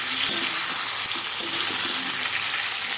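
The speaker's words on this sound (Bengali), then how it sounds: "দেখো ঢ্যাঁড়সগুলো কিন্তু আমার ভাজা হয়ে গেছে। এর মধ্যে আমি আলু আর কচুগুলো দিয়ে নাড়াচাড়া করব।" Okra, potatoes and taro fry and get stirred in a pan, giving a steady close hiss with scattered scrapes and clinks from the stirring.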